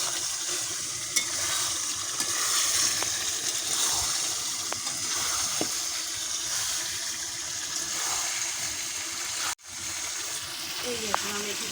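Water is poured into a pan of spiced country chicken curry cooking with whole onions and kasundi, a steady close hiss and splash of liquid meeting hot oil, with a brief gap near the end.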